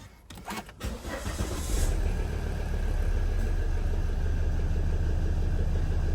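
A 2008 Volvo XC70 with an EGR valve sensor fault cranks briefly, catches and settles into a steady, even idle, close and fairly loud, with no voices.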